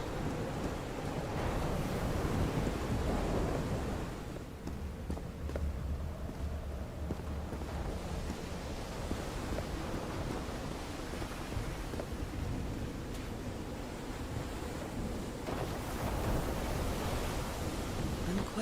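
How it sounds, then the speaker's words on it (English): A thunderstorm in the video game Call of the Sea: dense, continuous rain with low rumbling thunder rolling underneath, loud and enveloping throughout, with no voices. "I'm quite scared of storms."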